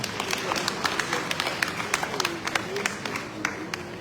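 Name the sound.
audience applause at summit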